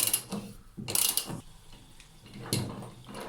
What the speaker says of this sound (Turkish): bunu bir lokma yardımıyla salmasırayı çıkarıyoruz